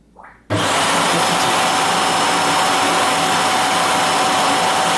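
After a brief quiet start, a loud, steady suction roar kicks in abruptly as a robot vacuum empties its dustbin at its base, holding close and constant.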